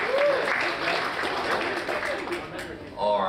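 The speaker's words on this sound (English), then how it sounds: "So one more round of applause for everyone who was part of those" A conference audience at the Queenstown Emergency Care Conference gives a short burst of dense, close applause, steady throughout and swelling again at the end, with a voice faintly over it.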